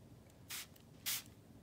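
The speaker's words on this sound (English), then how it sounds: "so I'm going to spray that" Two quick hissing sprays from a spray bottle, about half a second apart, close and crisp against a quiet background.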